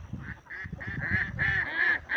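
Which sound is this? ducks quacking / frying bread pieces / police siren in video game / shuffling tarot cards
ducks quacking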